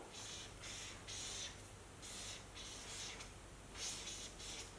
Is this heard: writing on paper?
yes